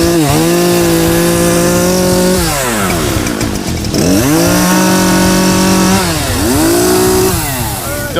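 A chainsaw cutting into a junkyard 1956 Buick, its engine droning loudly and close, revving up and dropping back in repeated rising and falling waves as it bites through the metal, with no voices over it.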